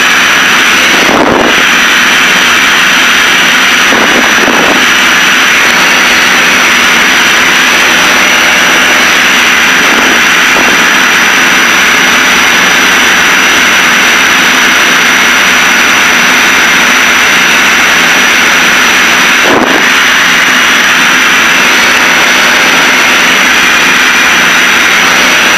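Steady, loud engine drone of a Piper Seneca twin-engine airplane in flight, heard from inside the cockpit, a constant broad roar with a few brief dips and clicks and no talk.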